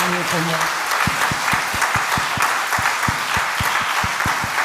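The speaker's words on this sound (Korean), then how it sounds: "다 들어갈 때까지 박수 한번." A church congregation claps during a Sunday worship service, a broad wash of applause with a few distinct nearby claps ringing out in a steady rhythm, and a voice briefly audible at the start.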